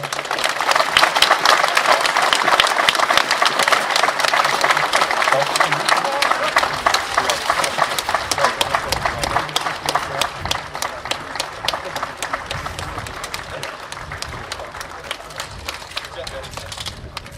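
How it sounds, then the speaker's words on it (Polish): Outdoor crowd at a historical reenactment of the Gestapo prison break in Mielec, Poland, gives long, dense applause, a steady roar of overlapping claps that stays loud and slowly eases off. "Teraz duże brawa."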